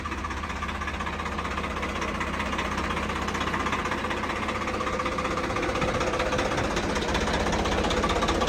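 Tractor engine running steadily at idle with a rough, knocking rumble, close and loud throughout, no voices.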